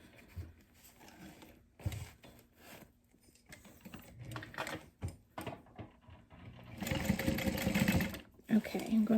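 Sewing machine stitching a key pouch, quiet handling and clicks at first, then a loud burst of rapid mechanical stitching near the end, close by.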